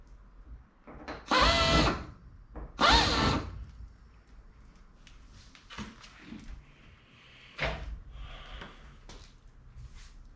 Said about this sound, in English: Installing armrests, or match drilling armrests.